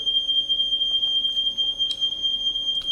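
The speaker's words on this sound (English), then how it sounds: "So good it just sent off the smoke alarm." A smoke alarm shrieks with a steady, piercing high tone through the whole stretch, set off by cooking in a home kitchen, with faint clatter and room noise beneath it and no voices.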